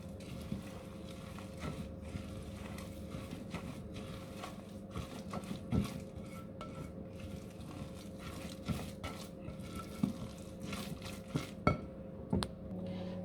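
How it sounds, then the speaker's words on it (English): A spatula stirs and folds apple and oat cake batter in a bowl, with soft scraping and squishing broken by scattered light knocks and clinks against the bowl at a gentle level. "I just need my spatula, and I'll mix everything together."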